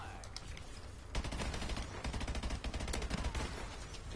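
Video game gunfire chatters as rapid automatic bursts, fainter at first and then dense and steady, with little talk over it.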